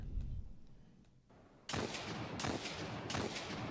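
Three heavy gunshots from the Hawkmoon hand cannon in Destiny 2, spaced about a second apart, each with a booming crack and short echoing tail after a quiet lead-in.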